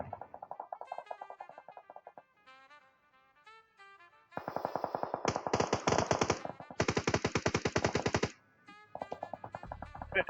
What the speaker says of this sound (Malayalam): വെടിയപ്പ് വെക്കുന്നുണ്ടല്ലോ.